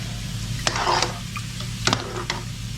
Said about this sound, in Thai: พอน้ำมันเราร้อนจัดนะฮะเราก็ นำเนื้อปลาลงไปทอดซ้ำนะครับ